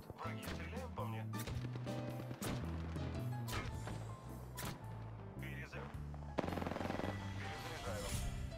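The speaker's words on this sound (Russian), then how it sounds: "Ну вот, враги стреляют по мне." Enemies firing at the player in a shooter video game, with dense rapid gunfire and heavy impacts in a near-continuous loud barrage under game music and a voice talking.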